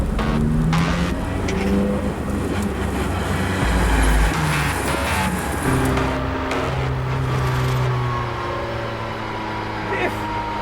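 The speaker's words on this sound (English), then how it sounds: "This is the Volkswagen Polo race car, and it's an absolute beast." Volkswagen Polo race car running on a track among other cars, a loud continuous engine drone with shifting pitch throughout, overlaid by talking.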